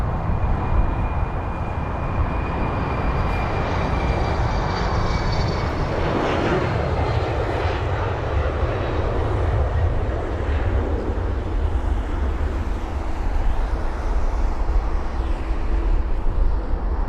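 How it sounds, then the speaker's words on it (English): A KLM Embraer E190 airliner moving at London Heathrow, its jet engines giving a loud, steady roar with a rising whine that holds without a break throughout. "KLM E190 on the move finally."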